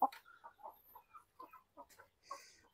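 A Basilan native chicken gives a run of short, soft clucks in an uneven rhythm, close but quiet, with no voices.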